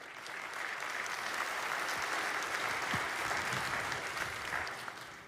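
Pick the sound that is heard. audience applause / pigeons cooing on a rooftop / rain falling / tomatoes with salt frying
audience applause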